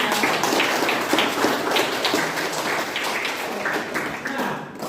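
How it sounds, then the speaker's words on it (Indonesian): A classroom group applauds during a lesson, producing dense, loud, continuous clapping that fills the whole stretch and tapers slightly at the end. "tepuk tangan dulu untuk kita semua"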